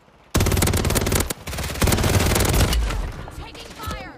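Sustained automatic gunfire from the video game Warzone, loud dense rapid bursts that briefly cut out and then resume before fading into softer game noise.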